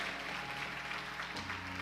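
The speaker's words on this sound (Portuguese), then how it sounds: "Você pode aplaudir ao Senhor?" Applause from a church congregation during a Portuguese-language worship service, a steady soft wash of many hands clapping at a distance, fairly faint throughout.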